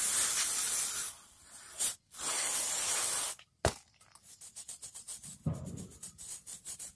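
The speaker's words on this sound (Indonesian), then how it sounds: "Nanti ini kita semprot aja pakai carb cleaner." Carburetor cleaner sprayed onto the carburetor of a Honda Beat ESP motorcycle: long close hissing bursts of aerosol, then a string of short rhythmic spurts and rubbing sounds.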